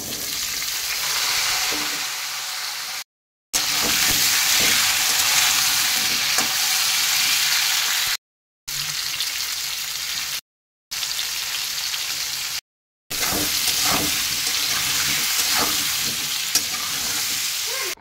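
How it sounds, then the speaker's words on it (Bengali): Pointed gourd (potol) pieces fry in hot oil with salt and turmeric, giving a steady close sizzle with occasional stirring clatter, broken by a few short silent cuts. "সেই পটলগুলোকে লবণ হলুদ দিয়ে ভালো করে ভেজে নেব।"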